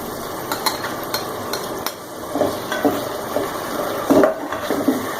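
Ginger garlic paste sizzling gently in a hot pan while a utensil stirs and scrapes, with soft clinks over a steady background hum.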